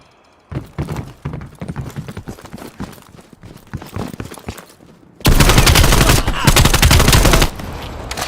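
Suppressing fire in the shooter game Call of Duty Cold War: scattered bursts of gunshots crack in quick rhythm, then a loud, continuous automatic barrage roars for about two seconds before dropping back to steady shooting.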